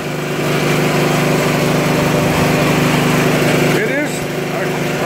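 A Poulan Pro 800 Series 26-inch walk-behind tiller's small engine runs loud and steady, a close, buzzing, high-pitched drone that holds constant throughout with a brief dip near the end.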